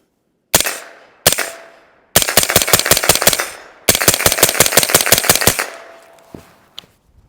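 A 9mm pistol caliber carbine with a hydraulic buffer fires outdoors: two single loud shots, then two rapid strings of about ten shots each with sharp cracks and short echoes, close and loud.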